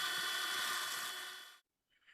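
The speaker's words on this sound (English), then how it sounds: "Drilling out the countersink holes first helps with centering your pilot holes." A power drill bores pilot holes into a piece of old wooden flooring, giving a steady whirring grind that runs for about a second and a half before stopping abruptly, followed by a faint brief noise.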